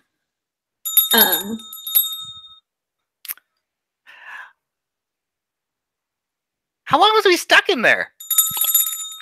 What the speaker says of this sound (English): You hear the bells.